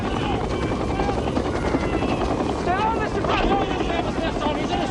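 Helicopter rotor and engine roar steadily throughout, loud and close, with voices shouting over it amid a chaotic battlefield-style scene.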